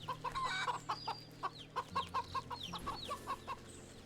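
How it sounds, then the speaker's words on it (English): A chicken clucks in the video game Wytchwood, giving a rhythmic series of short, fairly close clucks and squawks over a low ambient game backdrop, with no voices. "Chicken."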